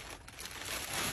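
A plastic bag holding a horn antenna being handled, giving a close, continuous crinkle that builds slightly toward the end.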